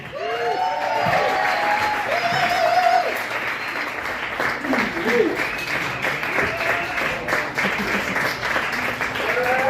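Comedy club crowd at an improv venue bursts into sustained applause and cheering as the next comedian takes the stage, loud and steady for the whole stretch, with a host's brief shout and scattered whoops riding over it.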